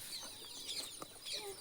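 Chickens cluck in a newly built poultry shed, soft scattered calls coming close over a quiet background.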